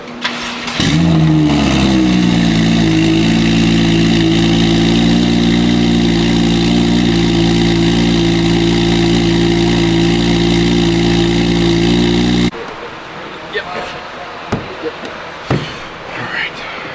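A Porsche 991.1 911 engine catching on its first start and settling into a steady, loud idle with a droning hum, close by, before cutting off; faint knocks and movement follow.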